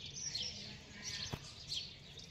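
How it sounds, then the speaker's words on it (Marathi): Sparrows chirp in the morning with a few faint, brief tweets over a quiet outdoor hush, coming from some distance away. "मस्त चिमण्यांचा किलबिलाट."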